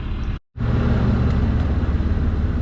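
A heavy Ram 2500 hotshot pickup with a loaded trailer, pulling a heavy Airstream van, rolls backward down a road. Its engine drones as a loud, steady, close rumble after a brief cutout near the start.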